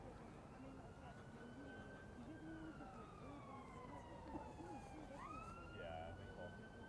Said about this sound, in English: with the beautiful sirens playing in the distance